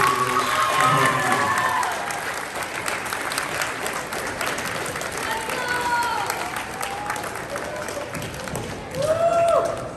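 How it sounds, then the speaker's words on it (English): A large crowd applauding and cheering at a school 8th grade honors assembly, dense clapping throughout with a few raised voices and whoops rising near the end. "give them a round of applause"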